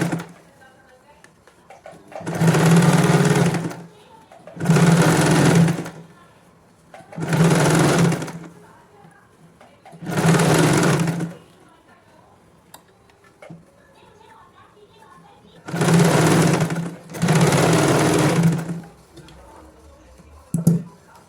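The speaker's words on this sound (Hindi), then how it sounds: "अब हम इसको इस तरह से पलटेंगे और इस तरह से इसको दोबारा सिलाई लग, इसके ऊपर एक धार स्टिच लगाएंगे।" A sewing machine runs in six loud bursts of steady stitching, each lasting about a second or two, as a kids' frock made from leftover fabric is stitched, with pauses between bursts and someone talking quietly in the gaps.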